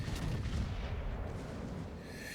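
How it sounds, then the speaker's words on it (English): Secondary guns on a battleship in World of Warships fire in dense, rumbling volleys, a continuous heavy low boom close by with no talk over it. "my secondaries immediately go to work"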